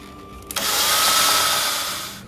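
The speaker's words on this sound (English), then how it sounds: "I'm going to drill a few drain holes right next to where the pump" A power drill bores drain holes into the plastic top of a camping shower jug, starting with a click and then a sustained high whine lasting about two seconds, close and loud.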